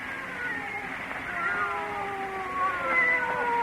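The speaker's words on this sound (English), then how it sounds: "They're not ordinary cats. Listen to them." Several cats meowing and yowling together in a quiet house, overlapping drawn-out wavering cries that rise and fall continuously, moderately loud with no talking.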